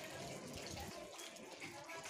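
Water gushing steadily from a burst drain along an open street gutter, a continuous loud rushing wash with no breaks.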